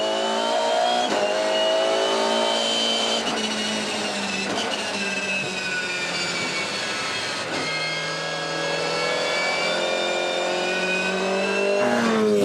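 Scott McLaughlin's number 33 V8 Supercar races at the 2015 Perth SuperSprint, its engine reported to be misfiring, giving a loud sustained roar with revs rising and dropping and several abrupt breaks around gear changes.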